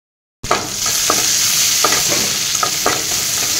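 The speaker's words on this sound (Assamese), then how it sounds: "কেৰাহীটোতে অলপ মই তেল দি দিলো তাৰ পিছত এয়া অলপ পিয়াজ কাটি দি দিছো" Chopped onion frying in oil in a wok gives a steady, close broadband sizzle, broken by a few soft stirring scrapes, with no voices.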